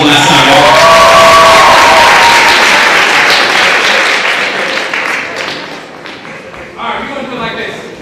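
Loud applause and cheering from a big crowd for the dancers at a suicide prevention community event in Willmar, fading over several seconds, then a voice briefly speaks over scattered clapping near the end.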